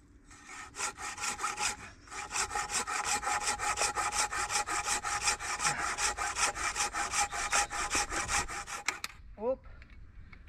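Wood being sawn by hand outdoors in the woods, rapid back-and-forth rasping strokes in a steady rhythm, close and loud, stopping near the end before a brief squeak.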